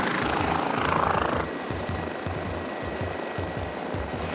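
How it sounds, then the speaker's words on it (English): Westpac rescue helicopter in flight, its rotor chop beating steadily and loudly throughout, with a constant engine drone and a brief louder cabin noise at the start. "Vibrations on the Westpac rescue chopper are playing havoc with Mike's injured foot"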